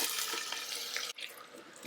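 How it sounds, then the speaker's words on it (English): Onions with urad dal, chana dal and curry leaves sauteing in an Instant Pot, a steady close sizzle with a brief dip partway through, no talking. "Saute the onions till they are soft and mushy."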